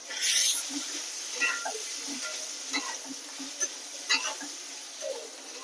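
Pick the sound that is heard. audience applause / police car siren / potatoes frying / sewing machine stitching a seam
potatoes frying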